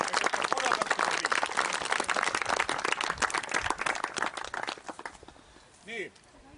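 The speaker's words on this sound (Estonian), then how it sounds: "Nii et aplaus Meelitele, et korraldab seda siin." An outdoor audience claps for about five seconds at a volunteer fire brigade's 75th anniversary parade in Valgu, Estonia; the applause is dense and steady, then thins out and stops, with a brief voice near the end.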